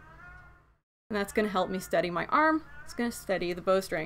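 A pet cat meows at the start, a drawn-out harmonic cry alone before a voice begins talking over a quiet room.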